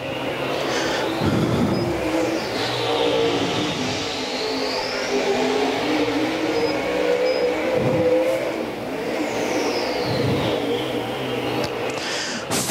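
A race car screams around Volunteer Speedway on a qualifying lap, its engine revving hard and dopplering past in repeated surges, loud and continuous with no talk.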